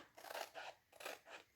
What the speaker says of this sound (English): So these are scissors that they're designed for cutting these transfers.